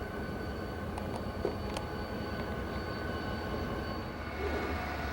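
Southern Pacific locomotive SP-8232, a Roseville repaint, rumbles steadily at a distance while leading a westbound train into Roseville, with a low continuous drone and a few faint higher clanks.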